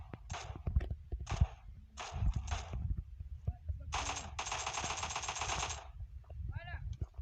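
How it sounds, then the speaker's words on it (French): Rapid bursts of automatic gunfire from the battle royale game PUBG crackle in short strings, then a longer sustained volley, loud and close, with faint footsteps and game sounds between bursts. "On me tire dessus."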